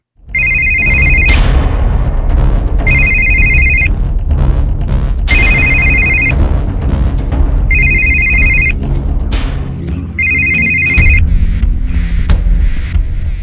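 A telephone rings in five evenly spaced bursts, loud and close, with a low rumble underneath.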